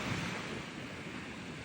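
Sea waves rush and wash onto the shore at Kollam in a continuous roar, with wind buffeting the microphone and no voices.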